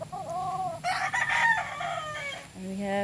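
A white and red rooster crows once in a short, clear call at moderate distance, quieter than the surroundings suggest, with no talk.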